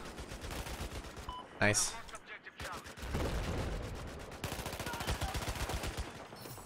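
Gunfire in Battlefield 4, a mix of rapid automatic bursts and sharper single shots at varying distances, with a loud crack partway through and brief talk over the action.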